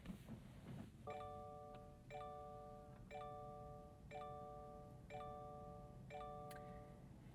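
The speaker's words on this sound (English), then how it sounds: "Subaru have integrated their chime into this as well" The startup chime of a 2026 Subaru Uncharted GT: a soft, multi-tone electronic ding repeats six times at steady one-second intervals in a quiet cabin.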